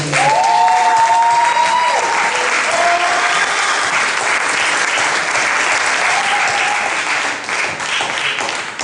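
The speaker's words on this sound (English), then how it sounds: "Give a huge round of applause for Lamont Napalm Dixon" Big applause from a poetry honors audience, loud sustained clapping with some cheering and a few raised voices, easing slightly near the end.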